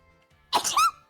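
One sharp, close sneeze bursts out suddenly, short and forceful, against a quiet background.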